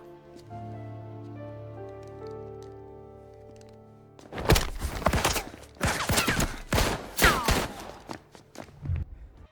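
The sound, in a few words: gunfire shootout in video game Mafia Definitive Edition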